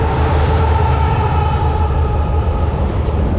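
A train rumbles past close by in a busy Maharashtra street setting, a loud, steady, unbroken roar of wheels and carriages with no voices.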